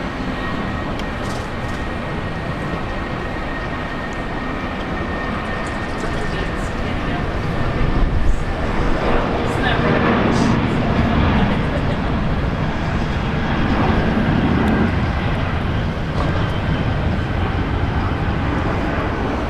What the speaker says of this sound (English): Jetstar 561 to Melbourne departing